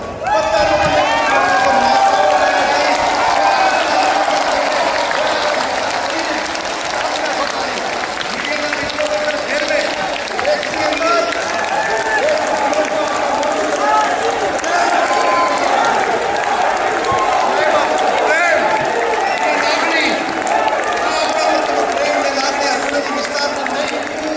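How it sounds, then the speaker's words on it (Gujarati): A large seated crowd at a political gathering rises and claps with hands raised, a dense, sustained wash of applause and crowd noise that stays loud and steady throughout with no break. "પોતાના સ્થાન ઉપર ઉભા થઈને બે હાથ ઊંચા કરીને તાળી મારો."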